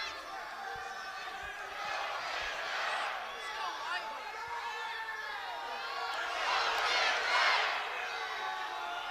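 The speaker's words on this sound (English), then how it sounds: "You hear the Go Big Red chant going on from the Husker faithful" Nebraska Husker fans in an arena crowd keep up a rhythmic Go Big Red chant during a 165-pound Big Ten wrestling match, a steady roar that swells near the end while an announcer talks over it.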